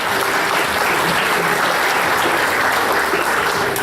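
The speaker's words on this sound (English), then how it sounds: "So it's, you can applaud for that." A concert audience at a senior concert gives a sustained, loud round of applause, a continuous wash of many hands clapping with no break and no talk over it.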